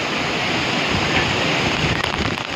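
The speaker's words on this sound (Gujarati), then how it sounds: "વાવાઝોડું આવી ગયો" Storm wind and heavy rain over farm fields, a loud constant roaring rush with wind buffeting the microphone, and a few sharper gusts near the end.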